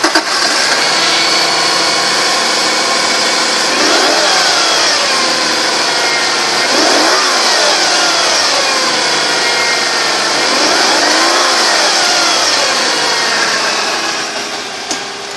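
A 2003 Subaru Outback engine with 176,275 miles idles steadily and loudly up close, with a constant drone and a few slow rises in pitch as it revs slightly.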